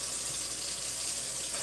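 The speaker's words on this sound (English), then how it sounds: "I'll fill that side up with water" Tap water runs steadily into a kitchen sink basin as it fills for washing pots and dishes, a continuous broadband rushing hiss at moderate level, close by and without speech.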